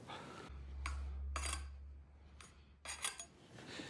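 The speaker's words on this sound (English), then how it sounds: "Scrape off the excess dough." Metal scraping along the rim of a tart pan to clear excess dough, a few short rasping strokes separated by quiet gaps over a low steady hum.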